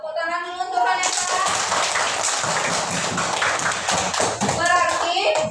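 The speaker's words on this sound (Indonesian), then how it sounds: "Tepuk tangan dulu untuk Vanessa" Children clapping in a primary school maths classroom for a pupil named Vanessa, a dense burst of hand claps lasting several seconds, with young voices at the start and end.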